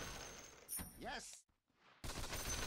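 Gunfire sounds off in the Dota 2 arcade game Heros Defensionis, a burst of sharp shots and a whining ricochet, then a brief drop to near silence before dense firing resumes, fairly faint overall.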